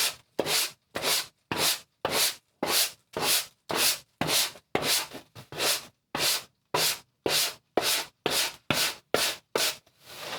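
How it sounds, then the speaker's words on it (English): A stiff brush scrubs old foam off the headlining board of a Mk2 VW Golf in about twenty brisk, evenly spaced rasping strokes, each loud and close with short gaps between. "brush and just gently, while supporting it from the back, scrub away and remove all the old foam."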